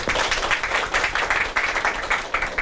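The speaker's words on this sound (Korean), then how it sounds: "여러분 박수 부탁드리겠습니다" Steady applause from an audience at an idea competition event, a moderate wash of clapping with a faint pulsing rhythm, continuous for the whole stretch with no voices over it.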